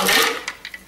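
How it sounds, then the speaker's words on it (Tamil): A mixer grinder whirs loudly as it blends cold coffee with ice cubes until frothy, a dense motor roar that fades after a moment into a few short, sharp bursts. "இப்போ நுரை வர அளவுக்கு மிக்சியில் அடிச்சுக்குவோம்."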